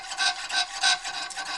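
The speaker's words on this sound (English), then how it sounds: "I set these up to cut on the pull stroke because jeweler's saw blades are" A jeweler's saw with a thin blade rasps through material on the pull stroke in quick, close, rhythmic strokes, about four or five passes with no talking.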